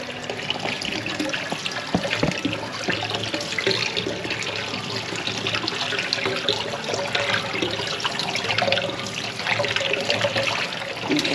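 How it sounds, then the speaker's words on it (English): Water runs and splashes steadily through a strainer, a continuous rushing rinse with occasional clinks, close by and without speech. "I'm going to rinse it in my strainer so that I can also strain it while it's in there"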